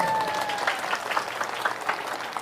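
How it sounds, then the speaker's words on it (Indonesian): An audience at an Islamic religious lecture bursts into steady applause for Lampung, a dense patter of many hands at moderate distance that continues for over two seconds without speech. "Tepuk tangan Lampung"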